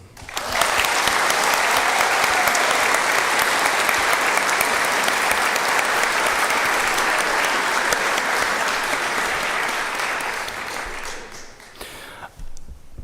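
Audience at a veterinary medicine faculty graduation ceremony applauding warmly, a steady dense clapping that fills the room for about ten seconds before tapering off, with a brief final burst.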